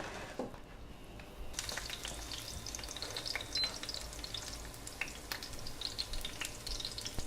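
Garlic fries slowly over gentle heat in olive oil for spaghetti aglio, olio e peperoncino, giving a soft, steady, close sizzle with a few faint stirring scrapes, quiet and without talk.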